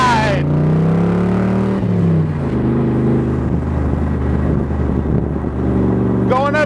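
A 1965 Shelby Cobra replica accelerates onto the expressway, its engine note climbing through the gears with a loud, close roar and a steady rumble while cruising.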